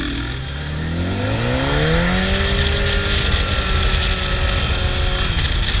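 A superbike and a supermoto accelerating hard in a street race, a loud continuous engine roar rising steadily in pitch as the revs climb, close and dominant throughout.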